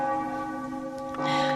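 Church bells ring with sustained, layered tones humming steadily, a brighter strike swelling near the end, moderately loud and free of speech.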